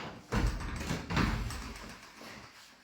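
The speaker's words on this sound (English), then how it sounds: "Dodgy door." An old, ill-fitting door in a historic building opens or closes with two heavy knocking thuds about a second apart, followed by a rattling scrape that fades away.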